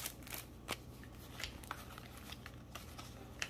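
Small paper playing cards are handled up close for a craft project, giving soft, intermittent flicks, shuffles and crinkles, with faint room noise between them.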